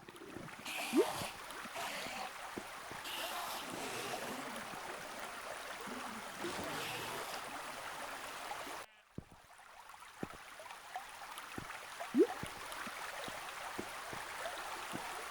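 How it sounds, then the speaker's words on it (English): Water flowing along a canal in the video game Minecraft, a steady rushing wash with soft splashy texture running throughout, dipping briefly partway before continuing at a similar level. "I'm flowing with this water canal now, Heron."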